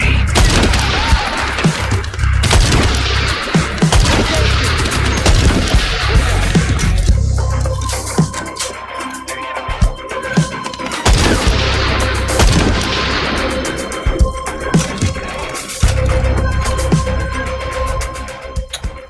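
Sniper rifle shots in Dying Light: The Beast ring out as loud, sharp cracks over a dense game mix of booms and chaotic combat noise, with several distinct blasts spaced across the scene.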